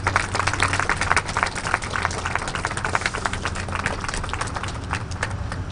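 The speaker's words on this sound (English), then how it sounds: "Give them a round of applause if they come." An audience at a Youth Moral Monday rally claps for North Carolina NAACP youth organizers, a fairly quiet, scattered patter of applause over a low steady hum, fading slightly toward the end.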